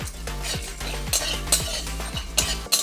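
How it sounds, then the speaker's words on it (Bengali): Whole spices including cinnamon, cumin, coriander and black pepper dry roasting in a pan, with repeated scraping stir strokes in a loose rhythm over a light sizzle, close and loud, no voices. "এই মশলাটা ভেজে আমি গুঁড়ো করে নেব"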